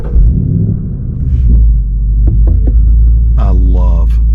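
A 2024 Ford Mustang GT V8 fires up close by, a loud deep rumbling idle that throbs steadily under a brief rev-like swell, with a short voice remark partway through.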